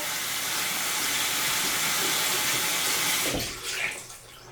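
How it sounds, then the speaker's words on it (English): Tap water runs in a steady hissing stream to wet a beauty blender makeup sponge, close and loud, then breaks up into splashes and stops near the end. "I'm gonna wet my beauty blender."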